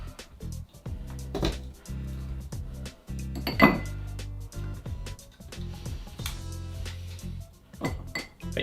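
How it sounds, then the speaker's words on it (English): Big ice cubes dropped into a rocks glass for a Screwball cocktail, giving a few clear clinks and knocks of ice on glass among other bar clatter at close range. "So get a rocks glass now and put in 3 big ice cubes"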